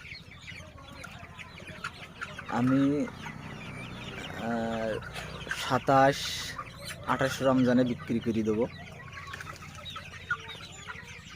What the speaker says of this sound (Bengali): সোনালী সুপার হাইব্রিড মুরগি